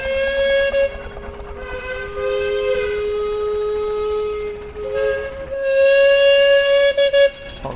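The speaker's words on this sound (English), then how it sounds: "Lots of whistles going." Several steam engine whistles sound at a model engine show, long sustained tones overlapping and rising one after another, loud and close, with a steady mechanical rumble beneath and no talk.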